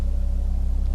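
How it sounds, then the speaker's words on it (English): Loud air traffic passes overhead in a forest, a heavy, steady low rumble with a pulsing drone that fills the whole moment, with no talking. "loud air traffic going over."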